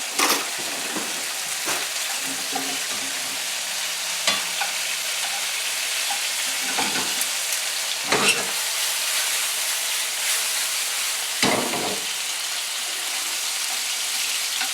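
Haddock fries in butter in a pan while being basted, a constant crackling sizzle broken by repeated clinks and scrapes of a spoon, close and fairly loud.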